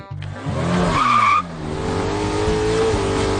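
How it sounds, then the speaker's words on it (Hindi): Car speeding off in a comedy film scene, tires squealing sharply for about a second over a loud revving engine, then the engine roaring on steadily as the car pulls away. "मुंशी गाड़ी लेकर भाग रहा है"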